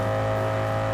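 Lamborghini Aventador engine in the TDU Solar Crown video game: a steady, loud, droning hum at a constant pitch, held for a single second without change.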